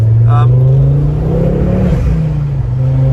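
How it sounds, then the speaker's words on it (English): Ford Focus ST 225 five-cylinder engine roars steadily and loudly from inside the car, a sustained low drone with slight pitch shifts, with a brief voice early on. "But listen to that 5-pot engine roar along."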